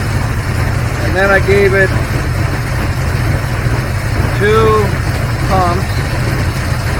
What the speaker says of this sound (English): here it is actually idling now